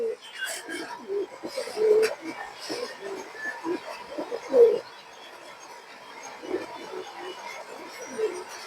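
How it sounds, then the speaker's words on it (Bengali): Pigeons coo softly and repeatedly from close by, low throaty calls recurring through the clip, where silver-line and other line-bred female pigeons are shown at a Bangladeshi pigeon sale; occasional faint chirps mix in. "খুবই সুন্দর একটা মাদি কবুতর"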